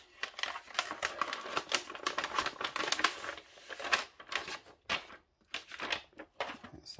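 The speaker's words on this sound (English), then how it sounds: "Let's just open that seal." A semi-transparent sealed envelope being torn open, close crisp crackling and ripping of thin plastic-like material in quick irregular bursts, with softer rustles near the end.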